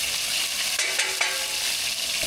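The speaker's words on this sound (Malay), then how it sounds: "Kita tumis dulu dah." Fish and onions stir-fry in hot oil with a continuous close sizzle, broken by a few short scraping stirs; no talking.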